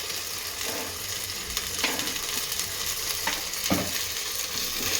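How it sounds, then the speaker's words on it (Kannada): Ginger garlic paste and chopped mint fry in a pan for plain biryani, a steady close hiss of sizzling oil with a few scraping stirs breaking through, continuous and fairly loud. "ಇದೆರಡು ಸ್ವಲ್ಪ ಹಸಿ ವಾಸನೆ ಹೋಗೋವರೆಗೂ ಹುರ್ಕೊಳ್ಳೋಣ."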